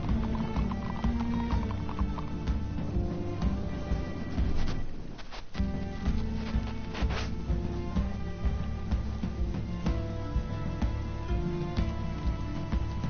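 Horse hooves clip-clop steadily in Minecraft Story Mode, a rhythmic patter set under a continuous bed of game music, with a brief dip in the middle before the trotting resumes.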